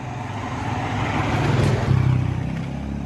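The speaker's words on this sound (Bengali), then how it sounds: "গাড়ির গতিও মারাত্মক।" Vehicles speed past on a dark road at night, a steady engine rumble that swells near the middle as one passes close, with no voices.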